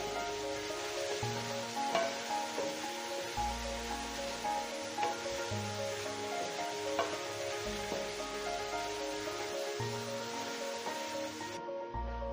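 Chicken mince frying in a karahi, a soft continuous sizzle and crackle held steady and fairly quiet throughout.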